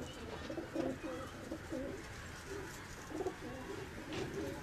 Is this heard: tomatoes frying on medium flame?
no